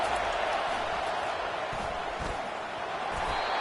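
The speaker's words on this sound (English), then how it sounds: "It is getting loud as this crowd tries to help its defense." Football stadium crowd swelling into a steady, dense roar as the home fans try to help their defense, broad continuous noise with no clear breaks.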